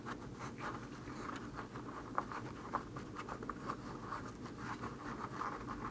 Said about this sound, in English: I'm just gonna kind of fold that over, leave it there, and stuff our foam into the tire.